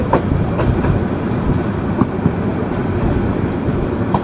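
A train running through Abdulpur Junction in Bangladesh without stopping, with steady rumbling and rhythmic clickety-clack of wheels over rail joints throughout, loud and close, with no voices.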